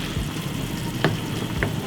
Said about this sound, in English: So basically, it's boiling up.